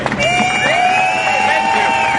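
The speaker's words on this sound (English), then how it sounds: "So please give yourself a round of applause today" A crowd at a MoveOn.org Stand Up For America rally cheers, with loud whoops and sustained high yells over a roar of voices and what sounds like clapping.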